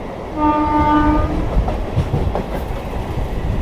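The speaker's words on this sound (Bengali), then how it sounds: "এই দুটো লোকাল ট্রেন একসাথে হাওড়া ঢুকছে" A train horn sounds briefly, then steady rumbling and rhythmic clacking of two local trains passing together into Howrah on the Barddhaman–Howrah chord line, loud and close.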